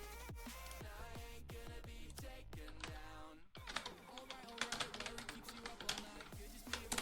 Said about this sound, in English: I'm typing this on another window, guys